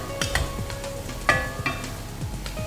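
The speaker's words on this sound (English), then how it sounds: "Just gently move the mushrooms around in the butter and the garlic." Mushrooms being gently moved around a pan of butter and garlic, giving a soft steady sizzle with a few light scrapes and clicks of a utensil against the pan, close by and with no talking.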